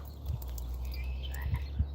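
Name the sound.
frogs croaking in snowy outdoors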